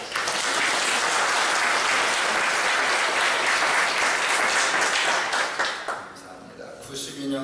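Church congregation at a revival meeting applauding in a steady, dense burst of clapping that fades out near the end.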